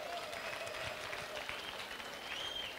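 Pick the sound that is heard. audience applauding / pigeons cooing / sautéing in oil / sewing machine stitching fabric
audience applauding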